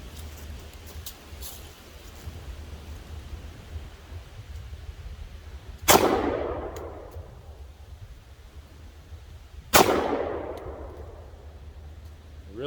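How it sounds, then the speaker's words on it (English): Two sharp, loud pistol shots from a Smith & Wesson Shield Plus Performance Center fired at an old bucket roughly 5-7 yards away outdoors, spaced about four seconds apart, each followed by a decaying echo over steady background hiss. "shooting at this old bucket here, fairly close"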